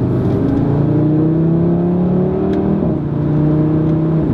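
An Audi RS3 Sedan engine runs close and loud with a steady, throaty drone, its pitch climbing gradually before dropping and settling again near the end.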